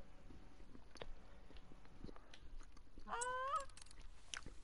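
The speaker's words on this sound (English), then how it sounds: "We got geese incoming." Canada geese honk in the hunting video game The Hunter: Call of the Wild, a short burst of several overlapping calls rising over quiet ambient game sound partway through.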